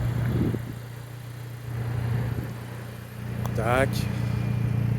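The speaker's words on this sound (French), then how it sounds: "Vous entendez, elle a une petite ligne GT Perf." Renault Megane 4 GT 205 with a GT Perf exhaust line, tuned Stage 1 on E85, idling with a steady low drone, one brief rising rev, and a voice speaking over it.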